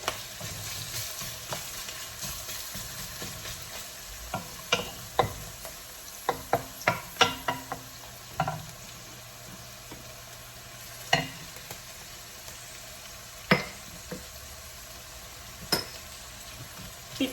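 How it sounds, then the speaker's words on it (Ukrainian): Sliced carrots frying in a pan for a leek soup, a soft steady sizzle with scattered clinks and scrapes of a utensil stirring, no talking. "на другу сторону кину морковку. І з морковкою. Так само чуть-чуть підсмажуйте."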